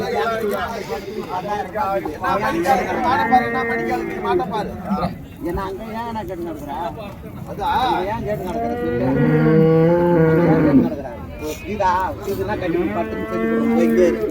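Cattle low repeatedly at a village cattle market in Uthangarai, Krishnagiri district, where country cart bullocks are arriving. The moos are drawn-out and fairly close, mixed with constant talking and crowd noise.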